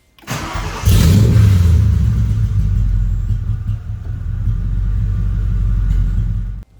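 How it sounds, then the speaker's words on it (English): Factory Five Cobra kit car engine cranks over and catches, then settles into a loud, steady rumbling idle close by, with a brief rev at the start before the running note holds evenly until it cuts off. "The vehicle is now ready for ignition."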